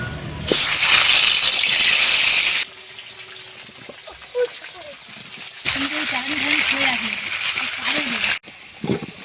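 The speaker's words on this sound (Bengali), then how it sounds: "এবারে মাংসর জন্যে আলু ভাজবো" Potatoes coated in salt and turmeric fry in oil in a well-used kadai, producing two loud, sustained hissing sizzle bursts separated by a quieter stretch where a person speaks.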